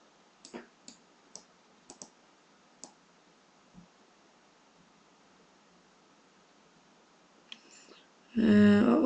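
Computer mouse clicking, a handful of sharp, quiet clicks scattered over several seconds against faint background hiss, followed by a burst of louder noise at the end.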